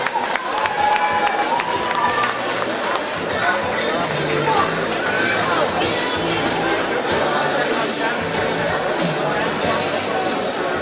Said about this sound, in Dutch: Een applaus, dames en heren, bij de heer Orlando